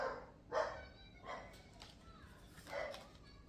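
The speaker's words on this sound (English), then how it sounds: "sorry about the dog" A pet dog barks indoors, giving three short, soft barks spread across a few seconds against a quiet room background.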